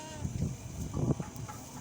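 Desi hens cluck softly in short bursts nearby, a few murmuring with quiet background noise.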